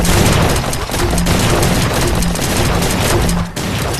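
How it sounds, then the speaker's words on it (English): A minigun in the video game ChiKing dead fires loudly and nonstop, a dense roaring stream of rapid shots mixed with booming impacts, lasting the whole stretch with a brief dip near the end. "And we're just gonna be doing a little bit of minigun action."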